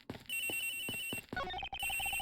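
A telephone rings in the video game Ace Attorney Investigations: repeated electronic ring bursts in a clear rhythm, then a rapid trilling pattern, loud and alone with no talk.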